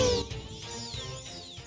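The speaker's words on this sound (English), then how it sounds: "And here's the Xbox achievement unlock sound." Xbox achievement unlock chime from a video game console: a bright electronic tone with rising and falling sweeps over a low sustained bed, steady and clear with no talking.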